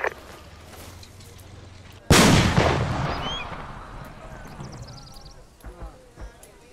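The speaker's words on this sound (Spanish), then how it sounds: "¿Alguien disparó un RP?" A rocket-propelled grenade launches with a sudden loud blast in the Arma 2 combat game, followed by a long roaring, fading whoosh and scattered distant pops after a quieter stretch of low rumble.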